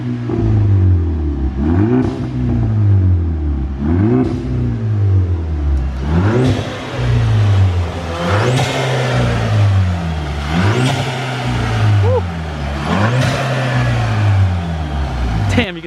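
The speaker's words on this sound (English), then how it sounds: "you can definitely hear the blow-off valve going crazy" A Volkswagen MK6 GTI with an upgraded intercooler and Stage 1 tune revs repeatedly in loud, rhythmic surges, each followed by a sharp blow-off valve whoosh, about seven cycles heard up close.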